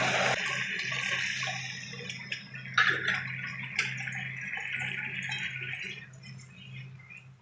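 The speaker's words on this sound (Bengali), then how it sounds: "এবার আমি জল দিয়ে দেবো" Water splashes and pours steadily into a pan of spiced curry for doi katla fish, close and continuous with a low hum beneath it. A few clinks of utensils interrupt the flow, and no one speaks.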